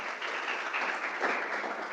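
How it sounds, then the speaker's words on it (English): An audience at a summer camp session claps together in steady, dense applause lasting about two seconds, with no talking over it. "Put your hands together."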